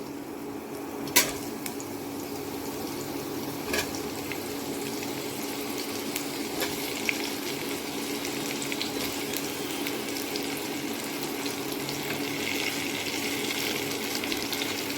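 Jujubes dropped into hot oil with spices for pickle sizzle and crackle steadily, a continuous close frying hiss with a few sharp clinks of a utensil early on.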